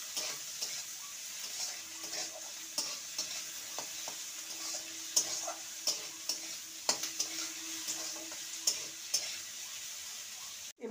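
Grated ginger, garlic and chopped tomato fry together in a pan, an even hiss of sizzling oil with regular light spatula clicks and stirring scrapes, close and steady with no voices.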